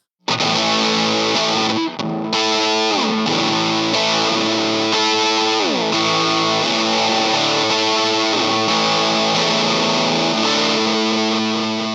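Loud, heavily fuzzed electric guitar played through a fuzz phaser pedal, playing chords and riffs, with a swirling, sweeping phaser tone throughout and no voices.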